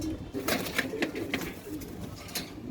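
Racing pigeons coo softly and repeatedly in a loft amid a steady background of rustling and faint noise, with no voices.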